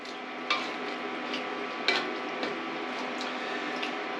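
Pre-cooked shrimp and beef stirred together in a pan for chow mein, soft scraping and occasional clinks of a utensil against the pan over a faint steady sizzle.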